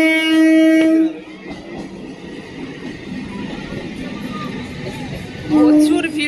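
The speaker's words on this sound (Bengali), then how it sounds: "ওই যে আপে ট্রেনটা আসছে" An up train pulls into a station, sounding a loud horn blast, then rumbling along beside the platform before a second horn blast at the end.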